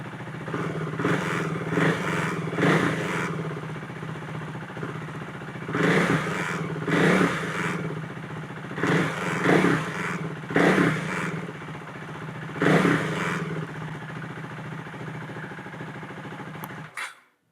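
KTM Duke 390 motorcycle engine with a ride-by-wire throttle problem, revved in repeated bursts over a steady idle, each throttle blip rising and falling, close and fairly loud, with no talk.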